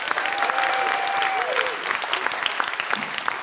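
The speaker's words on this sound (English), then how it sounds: "give yourselves a big round of applause for coming out tonight on Friday night" Audience applause at a live Science Vs show at the Beaker Street Festival, dense sustained clapping from a crowd lasting the whole span, fairly near, with a voice briefly carrying over it.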